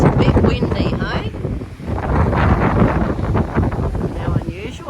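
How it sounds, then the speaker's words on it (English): Steady wind buffets the microphone with a constant low roar at a seaside town on the Eyre Peninsula, continuous throughout and fairly loud. "It's a bit windy, hey?"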